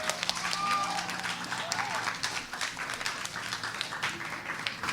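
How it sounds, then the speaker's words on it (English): A room gives an author a round of applause at a children's book event, a moderate spread of clapping lasting throughout, with a few voices and whoops mixed in. "Let's have a big round of applause."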